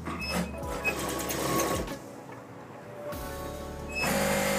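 A sewing machine stitches umbrella sleeve lining in quick, close bursts of rapid mechanical whirring, with brief pauses between runs.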